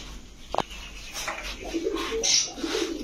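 Short-beaked Pakistani racing pigeons coo softly in a shop, low murmuring calls rising and falling over a steady background hum, with a sharp click near the start.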